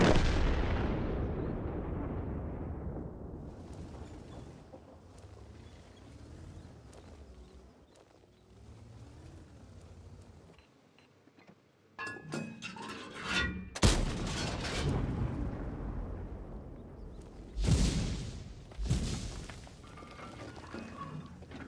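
Heavy cannon shots from a KJPZ TIII Jäger tank destroyer in a tank video game, a few sharp booms separated by quieter stretches of engine and battlefield ambience, with no voices.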